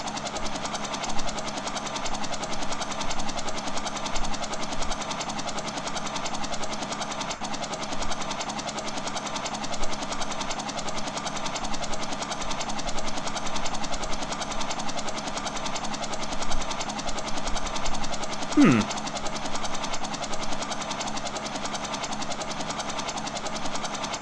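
Steady mechanical engine drone of a train in the Postal 2 video game, continuous and even throughout with a faint rhythmic chugging, plus one brief rising sweep near the end.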